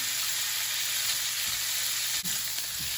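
Shrimp sizzling and frying in a hot wok for a Hong Kong scrambled egg dish, a steady close hiss with a few soft stirring knocks.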